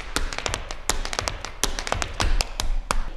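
Rapid, crisp tap dance steps strike a hard floor, a quick irregular run of sharp metallic taps and heel thumps, close and loud with no voices.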